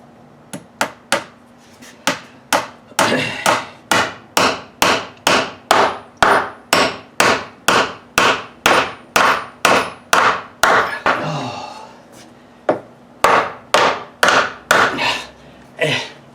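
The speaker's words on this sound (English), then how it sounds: "It's a left-handed hammer." Nails are hammered into a wooden base plate during a basement window replacement, a long run of sharp, evenly spaced blows, loud and close, with a brief pause midway before the strikes resume.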